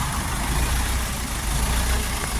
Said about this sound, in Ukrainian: Трактор на 40 кінських сил, 40 сильний